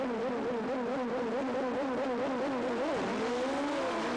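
Turbocharged drag race cars at a 1986 IDBA event in Warner Robins, Georgia, accelerating down the quarter mile, heard from a distance as a loud, steady engine whine that warbles and rises in pitch.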